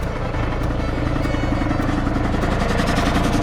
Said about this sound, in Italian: quando il compressore è pieno si sente che fa questo rumore qua